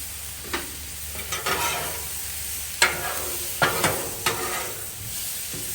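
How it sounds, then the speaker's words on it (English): Butter cubes sizzling on a Blackstone griddle: a steady frying hiss with several sharp scraping or stirring clicks scattered through it. "Get a couple cubes of butter on there."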